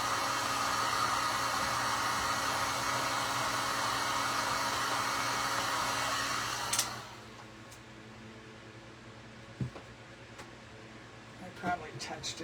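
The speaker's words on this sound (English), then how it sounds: "I'm gonna hit it with the dryer." A hair dryer blows steadily and loudly onto freshly painted green paint on a DIY picnic watering can, then cuts off partway through, leaving quiet room tone with a few small knocks.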